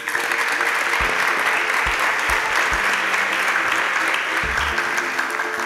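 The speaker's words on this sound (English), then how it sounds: "Please a round of applause for my finalists." An audience at a televised STEM competition applauds its finalists with steady, dense clapping, loud and sustained, with a few low thumps underneath.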